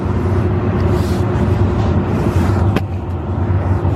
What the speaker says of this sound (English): there's a huge rattle right here. I think it's the honeycomb inside of the cat